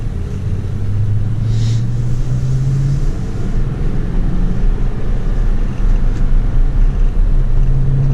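Toyota Tundra pickup with manual shifting pulling away in first gear, a loud continuous engine rumble with a rising drone under steady road noise, heard from inside the cab without talk.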